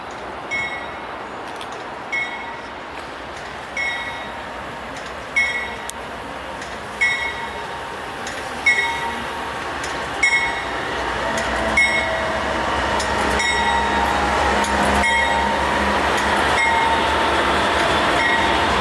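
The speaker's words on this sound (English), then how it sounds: "we saw this coal train coming into view, so we pulled over and stopped to watch it go by." A coal train rolls past on the tracks in Virginia, starting as a distant rumble with a series of rhythmic clunks, then swelling into a loud, steady roar of cars and wheels as it passes close by.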